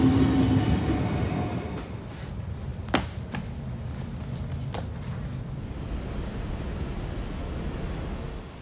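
A train riding on rails, a loud rushing rumble that gradually fades and settles into a steady lower roar, with a few sharp clanks and knocks from the carriage along the way.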